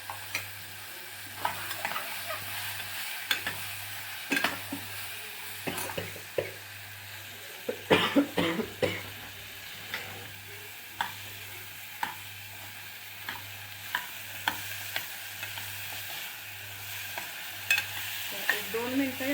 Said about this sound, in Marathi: भाज्या थोडा वेळ परतवून घ्यायच्या